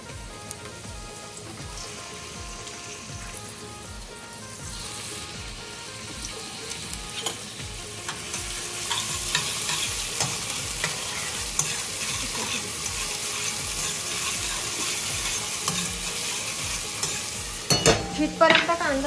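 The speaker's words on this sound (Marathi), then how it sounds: "आणि आता तेल तापलेलं आहे. कांदा परतवून घेऊया आपण." Onion sautéing in hot oil for a Marathi-style crab curry, a continuous crackling sizzle with scraping stirs, growing louder and brighter midway, ending with a few sharp utensil clanks.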